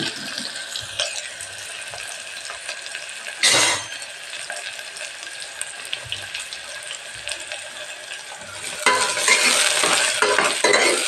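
Onions frying in a pan for chicken biryani, a steady sizzle with intermittent ladle scrapes and stirs, turning louder and hissier near the end.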